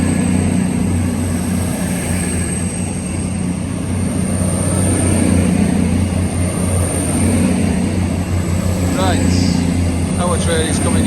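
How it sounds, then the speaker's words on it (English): A diesel train bound for London Euston approaches from the distance at a station, a loud, steady low engine drone and rumble that holds throughout, with faint higher tones near the end. "Our train is coming in the distance"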